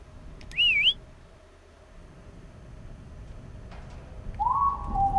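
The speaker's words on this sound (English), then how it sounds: "it's a good thing they whistle back" Two short whistled calls ring out in the Lazaret horror game, a wavering whistle near the start and another answering later, over a low dark ambient rumble with no talk.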